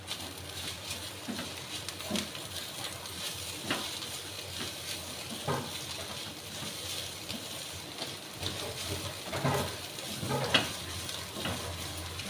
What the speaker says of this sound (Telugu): కొంచెం గరం మసాలా కూడా యాడ్ చేసుకోవాలి. వేసుకుని వీటిని ఒకసారి బాగా కలుపుకుందాం.